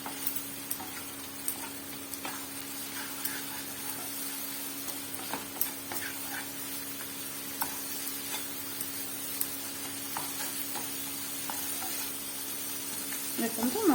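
Masala for paneer masala fries in a hot pan with a steady, soft sizzle, broken by small crackles and stirring ticks; a voice speaks quietly now and then.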